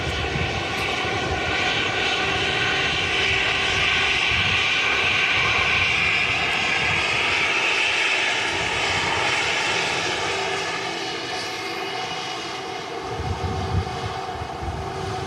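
A Sky Express Airbus A320neo jet roars steadily on its takeoff from a windy Manchester Airport, its loud, continuous engine noise filling the whole stretch with no talk over it.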